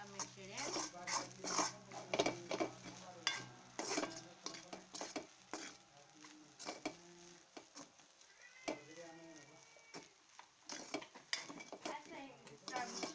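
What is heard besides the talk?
mixing food in a pan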